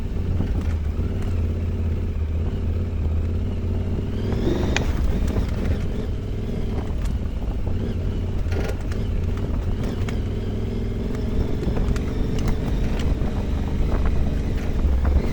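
Adventure motorcycle (BDRX) riding a rocky trail near the Chattahoochee, with a steady engine drone and heavy wind buffeting the microphone throughout, a brief louder rev partway through.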